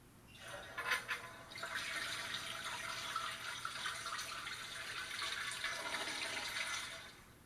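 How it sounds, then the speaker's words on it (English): Toilet flush sound effect: a soft rush of flushing water rises quickly, swirls steadily for several seconds and then tapers off, heard alone and fairly faint. "That toilet sound was too realistic."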